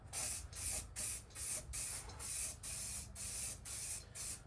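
An aerosol spray can paints car bodywork on a damaged Audi A5, hissing in a steady series of short bursts with brief gaps between them, close and clear, with no talk.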